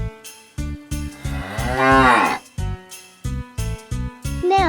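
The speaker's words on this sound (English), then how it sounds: "Cow." A cow's long mooing call rises and falls over a bouncy children's nursery music backing with steady beats, the moo loud and clear in the middle of the passage.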